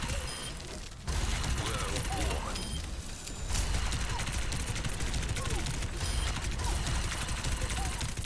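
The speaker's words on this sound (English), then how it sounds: "it'll basically shoot these projectiles" Ramattra's staff in Overwatch 2 firing a steady stream of projectiles in the Training Room, a continuous, loud mechanical clatter of rapid shots with a brief lull around the middle.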